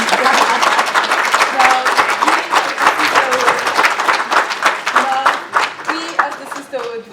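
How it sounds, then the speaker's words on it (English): An audience at an International Women's Day event claps steadily throughout, a dense rain of hand claps with scattered cheers and voices mixed in. "Please give another round of applause."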